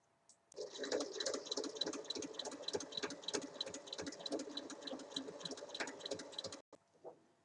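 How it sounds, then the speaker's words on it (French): A sewing machine stitches along a zipper 5 mm from the edge of a fabric pouch, a fast steady mechanical patter running for several seconds before stopping, with faint handling sounds after. "on va venir piquer à 5 mm sur toute la longueur"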